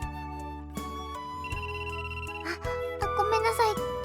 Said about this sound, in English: Asuka's phone rings, at which point she checks the caller ID and promptly answers.